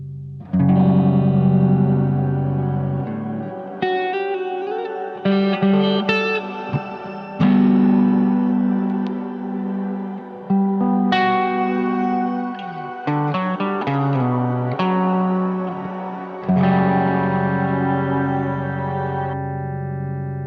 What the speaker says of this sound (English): Bit of reverb.